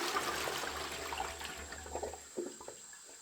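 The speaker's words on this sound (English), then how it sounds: "you can flush that toilet using the mop as a plug," A toilet being flushed with a mop pushed into the drain hole as a plug, giving a steady rushing gurgle of water that softens into uneven splashes and sloshing.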